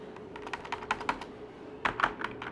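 Rapid keystrokes on a computer keyboard while writing code, a quick irregular run of close clicks with a short pause and then a second burst, heard alone.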